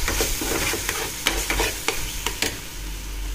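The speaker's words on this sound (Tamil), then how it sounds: "இந்த ஸ்டேஜில் நான் 1/4 கப்பு கெச்சப் போட்டிருக்கேன், டொமேட்டோ கெச்சப்பு. இதை கலந்து விட்டுட்டு" Tomato ketchup being stirred into a masala frying in oil for a street-style mushroom kaalan, with repeated scraping strokes of a spoon against the pan over a steady low sizzle, close and with no talking.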